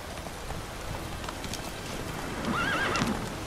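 Roach, Geralt's horse in The Witcher 3: Wild Hunt, gives a short whinny near the end over a steady hiss of rain-like ambience, with faint hoof clatter mixed into the background wash.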